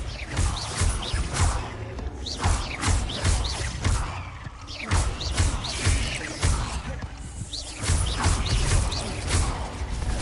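Bombarda blasting spells go off in Hogwarts Legacy cave combat, a run of loud, crashing blasts and thuds repeating irregularly over ten seconds amid busy game effects.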